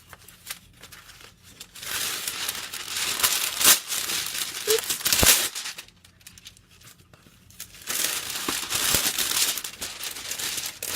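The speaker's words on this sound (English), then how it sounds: "You're going to take parchment paper." Sheets of parchment paper crinkled and handled on a craft table, rough papery crackling in two long bursts separated by a quiet stretch, close and fairly loud.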